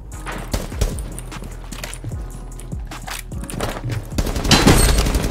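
Rapid burst of gunshots in Rainbow Six Siege fired through a wall, sharp close cracks in quick succession with a louder cluster near the end, no talk over them.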